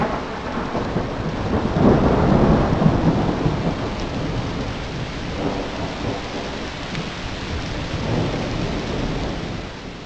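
Heavy, steady rain pours down through a thunderstorm over farm fields, with deep rolling thunder swelling and fading beneath the continuous hiss of the downpour.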